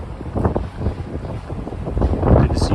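Wind buffets a microphone on a sunny but windy spring day on a New York City street, heavy low rumbling gusts that rise and fall throughout and swell louder toward the end.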